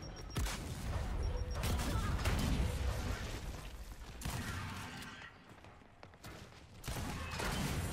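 Grenade blasts and heavy gunfire crash through a Gears 5 ranked Control match, a dense, loud stretch of booming explosions and sustained shooting that dips briefly midway before surging again.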